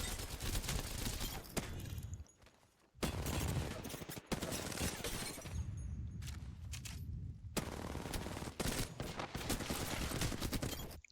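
Rapid bursts of gunfire in a shooter video game, loud and dense, coming in long sustained volleys broken by two brief lulls.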